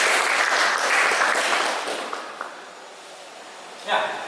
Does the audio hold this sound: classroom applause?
yes